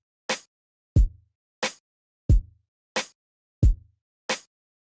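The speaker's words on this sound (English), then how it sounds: "So these drums are really simple. It's just like pretty straightforward kind of hip-hop style drums." A sparse, steady hip-hop drum pattern alternating crisp snare-like hits with deep punchy kicks, seven hits in an even, relaxed groove with silence between.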